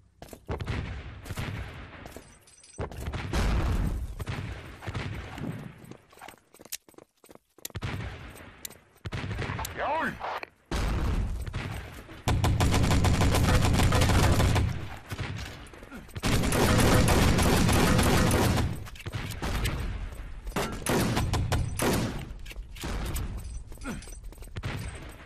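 Gunfire in the video game Wolfenstein: Enemy Territory Legacy on the Adlernest map, loud bursts of automatic fire and single shots in rapid clusters, with brief pauses between volleys.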